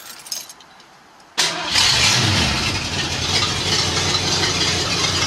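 A 1972 Ford Mustang's 302 V8, running with no exhaust fitted, cranks and fires up after a brief quiet moment, then settles into a loud, raw, steady rumble close by.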